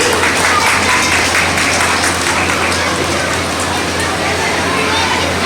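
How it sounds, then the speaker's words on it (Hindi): Loud, sustained applause from an audience as a mother is welcomed onto a stage at a Mother's Day school event, a dense wash of clapping filling the whole stretch without break. "एक बार जोरदार तालियां बजा दीजिए मैम के लिए प्लीज।"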